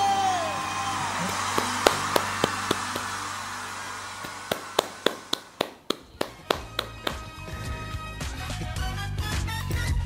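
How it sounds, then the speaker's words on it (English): A concert crowd at a Luis Miguel show cheers and shouts beneath music, a broad, continuous roar with a run of sharp, evenly spaced claps or beats in the middle. "See the way people are shouting, screaming, jumping and dancing."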